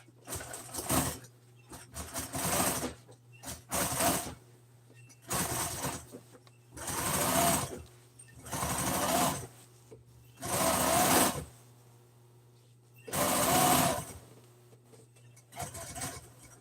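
A sewing machine runs in a series of about nine short bursts of rapid stitching, each a second or two long, separated by quiet pauses with a faint steady hum beneath.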